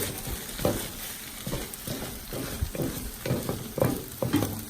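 Seafood searing in a hot paella pan, a steady sizzle with repeated scraping and stirring knocks of a utensil, close up with no voices.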